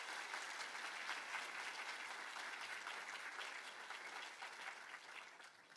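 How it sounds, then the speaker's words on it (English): An assembled school audience applauds elementary students at a registration-day gathering, a broad, even wash of many hands clapping, fairly distant and soft, tapering slightly toward the end. "Shall we all give our elementary students a round of applause?"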